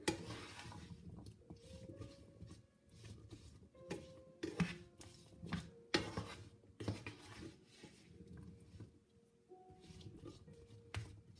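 Soft stirring of strawberries, cherries and pear in a pan as the fruit begins to caramelize, with irregular scrapes, light clinks and faint moist squishes close by and no talking.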